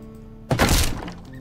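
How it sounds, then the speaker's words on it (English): A house roof being torn down in the medieval survival game Medieval Dynasty: one sudden heavy crunching crash that swells briefly and then fades, preceded by a quiet steady backdrop. "Destroy the roof."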